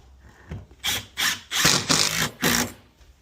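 A power driver sets screws into a bracket for a 3M Aqua-Pure AP902 whole-house water filter, giving four or five short, close whirring bursts in quick succession with no talk.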